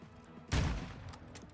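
A single booming gunshot from a first-person shooter game, one sharp blast followed by a short rumbling decay, fairly faint overall.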